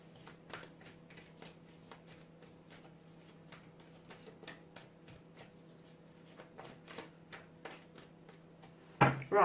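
Tarot cards shuffled by hand in a quiet room, a run of soft, rapid riffling taps and slaps repeating across the stretch, ending with a sharper louder rustle.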